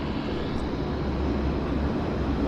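Air North Boeing 737-500 airliner without winglets taxiing quickly for departure at Vancouver airport, a steady, loud, broadband jet engine roar that holds constant throughout with no voices.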